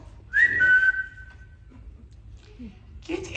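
A whistle is blown during a stage musical of Peter Pan, one sharp sustained shrill blast that fades out, followed by quiet stage noise and brief voices near the end.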